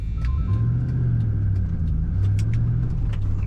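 A 2005 Chevrolet SSR with a six-speed manual drives on the road, a loud steady engine rumble heard from inside the cab with a couple of brief rises in pitch as it pulls along.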